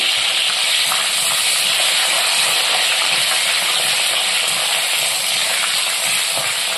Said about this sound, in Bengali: এটা আমি ভালো করে একটু নেড়ে নেব খুব সুন্দর করে।